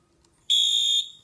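A new fire alarm that has been muffled with tape gives one steady, high-pitched electronic beep lasting about half a second in a quiet room.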